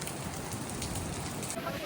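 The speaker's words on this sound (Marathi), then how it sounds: "हे बघा पाऊस खूप आहे असा" Heavy rain pours down in a steady, dense hiss at a hill fort in Goa, close and loud throughout, with no break in the downpour.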